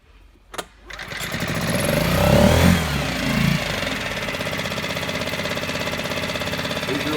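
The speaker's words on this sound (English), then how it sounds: "And then you just want to pull the rope a couple of times just to prime it." A 2.6 HP outboard motor is pulled over and catches, its small engine rising into a loud buzzing run that settles to a steady, close idle.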